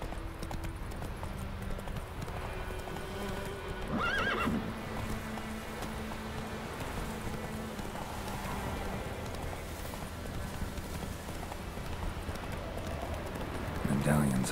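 Roach, a horse in The Witcher 3: Wild Hunt, neighs twice, once in the middle and again near the end, over a steady clip-clop of hooves and game ambience.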